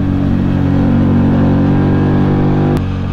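Steady loud engine drone of a Keeway V Cruise 125 scooter cruising on a highway, with constant wind rush and a sustained mid-pitched hum that drops slightly near the end, no voices.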